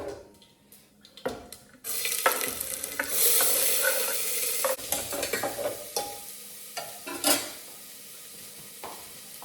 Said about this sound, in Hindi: तो अपने प्याज भूनने देते हैं